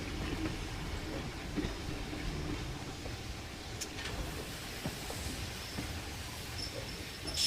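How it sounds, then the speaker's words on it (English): Steam train making a return trip near Wollongong, climbing up through Macquarie Pass: a steady, continuous rumble of rolling carriages with faint clatter, moderately close and constant throughout, with no voices. "You get a return trip on a steam train."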